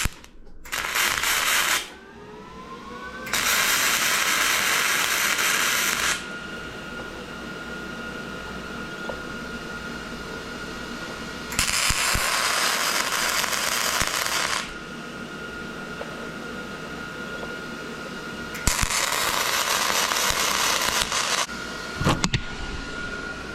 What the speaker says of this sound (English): I'm gonna put a couple tack welds in that one